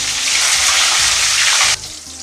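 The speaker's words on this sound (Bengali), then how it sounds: "পটলগুলো ভেজে নিই, তারপর এক একটা করে সব ভেজে ভেজে তুলে নেব" Pointed gourd (potol) pieces fry in hot oil for a traditional offering, giving a loud, steady hiss over a low hum that cuts off abruptly near the end.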